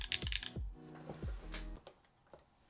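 Keystrokes on a freshly built Tofu65 mechanical keyboard: a short burst of quick clacks, then scattered single presses with low thocky tails, close and fairly quiet, with no talking.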